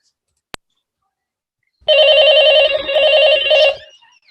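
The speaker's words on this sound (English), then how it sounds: "A phone rings." A telephone ringing on a dark night, one short electronic trill burst lasting about two seconds after a brief click, loud and close, with no voices.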